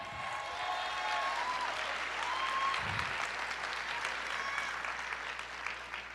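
Church congregation applauding steadily during a sermon, a dense continuous patter of many hands at moderate distance, with faint voices and a short low thump partway through.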